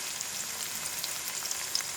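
Onion and garlic fry in a pan for a country-chicken curry, making a faint, even crackling sizzle with a few small pops, steady and uninterrupted, with no voices.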